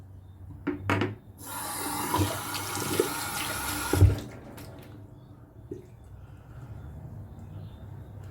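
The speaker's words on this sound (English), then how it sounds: "I've just splashed my face down about 4 times then." Water from a sink tap splashing onto a face several times after a shave with Timberyard shave soap, a rushing run of water with brief splashy bursts, then quieter dripping and rinsing close by.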